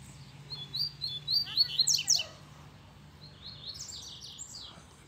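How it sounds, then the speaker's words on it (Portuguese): A caged coleiro (double-collared seedeater) sings a quick burst of bright, high chirping notes at close range, followed by a fainter second phrase over a low steady hum. "O Mac já deu um bocado de canto aqui já"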